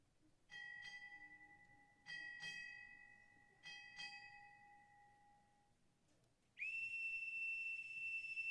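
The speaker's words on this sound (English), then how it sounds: "Strike 6 bells." Ship's bell struck six times in three paired strokes at a naval Chief Petty Officer pinning ceremony, clear ringing tones decaying between pairs, followed by a long sustained boatswain's pipe whistle.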